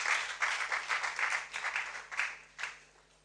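Applause from a conference audience at an international postgraduate studies event, a steady moderate wash of clapping that swells and fades in waves for a few seconds.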